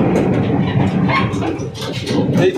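A train standing at the station in Haridwar, with a continuous low rumble and broadband mechanical noise that stays loud and close throughout, with no clear talk over it.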